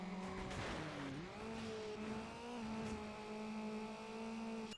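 Racing cars in the PS2 game Need for Speed Underground, with a steady engine drone that rises and shifts in pitch like gear changes, plus a brief screech near the start, playing continuously with no talk.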